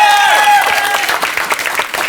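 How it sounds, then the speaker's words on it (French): A theatre audience at a live French comedy show bursts into loud, dense applause, many hands clapping together at close range while a sustained tone fades out beneath the start. "applaudissez très fort, s'il vous plaît!"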